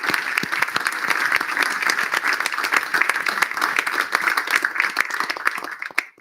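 A pub crowd at a political talk evening gives the panel a warm round of applause, dense, steady clapping that holds loud for several seconds and then tapers off abruptly at the end.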